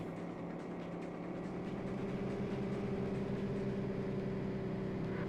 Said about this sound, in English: You can hear the gearbox.